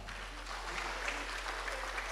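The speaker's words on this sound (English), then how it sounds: "kindly give them a clap" Applause from an audience at a university research conference fills the room, a steady, dense patter of many hands clapping at moderate volume with no break.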